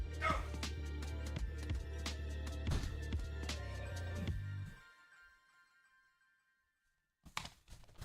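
A dog barks and yips repeatedly at close range for several seconds. Quiet follows, then a brief final burst of barking.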